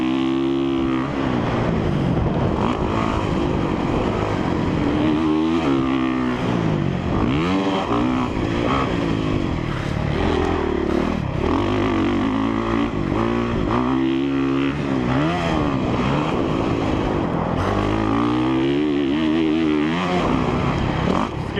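A motocross dirt bike rips a lap at Thunder Valley on a damp, slick track, the engine loud and close, revving hard and falling off in constant surges as the rider shifts and throttles through the course.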